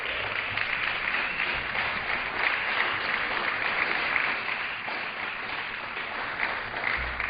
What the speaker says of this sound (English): Let's give Jerry Lewis a round of applause.